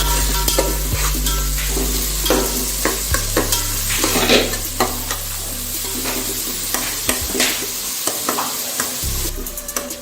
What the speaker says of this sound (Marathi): कांदे घेतले बारीक चिरले, ते टाकते, छान परतून घेते